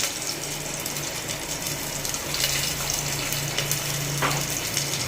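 Dry-roasted mung dal being washed in water, a steady wet sloshing and gushing like running tap water that continues evenly at close range with no talking.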